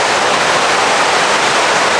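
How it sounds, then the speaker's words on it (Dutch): A large volume of water rushes steadily through a koi pond filter at a Japanese koi farm, a close, loud, continuous broadband roar with no pauses and no voices. "Er gaat een hele grote hoeveelheid water door."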